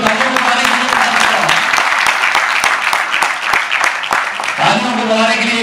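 Loud, continuous crowd clapping with a faintly rhythmic pulse rises at a felicitation event for student cancer patients, dense and near, fading slightly at the close.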